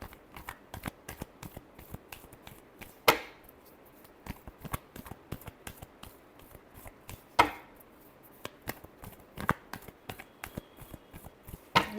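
Tarot cards shuffled by hand, giving a crisp, close, rhythmic run of riffling and slapping strikes with a few sharper louder snaps, heard alone without talk.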